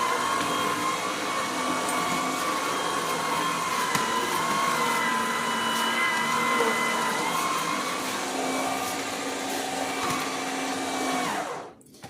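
A juicer machine runs steadily while juicing watermelon rind with ginger, giving a loud, continuous motorized whir with a grinding edge that holds until it cuts off abruptly near the end.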